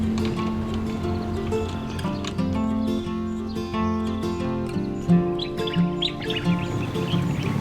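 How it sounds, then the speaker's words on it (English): Seagull circling a boat on Sebago Lake in Maine, its repeated squawking calls rising over a busy background of other sounds. "Morning, Mr. Seagull."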